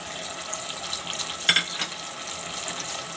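Ground coriander, a pinch of turmeric and red chili powder hitting hot oil for a potato curry, with a steady bright sizzle, a brief louder crackle as the spices land, then close, continuous frying.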